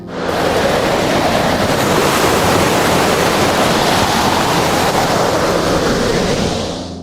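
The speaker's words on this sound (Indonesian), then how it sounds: "Kini air laut dan angin telah menyatu membentuk putaran tornado yang besar, menghisap segala sesuatu di sekitarnya." Stormy sea surf and howling wind merge into one dense, roaring wash of noise, the sound of a waterspout forming over open water. It is loud and unbroken for about seven seconds, fading slightly at the very end.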